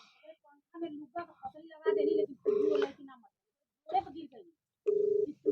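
During a phone call in a comedy sketch, a telephone ring tone sounds in repeated steady pulses. Voices talk in the gaps between the rings.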